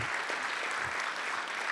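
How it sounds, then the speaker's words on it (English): Audience applause at a volunteer awards and recognition ceremony, a continuous wash of clapping from a crowd, moderately loud and without talk. "let's give them a huge round of applause"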